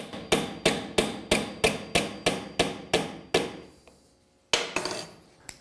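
Brass pin being hammered into a wooden box hinge in a woodworking shop: about ten steady, evenly spaced blows, then a pause and a few closing taps, loud and close with no talking.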